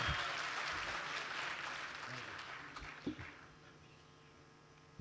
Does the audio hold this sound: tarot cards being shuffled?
no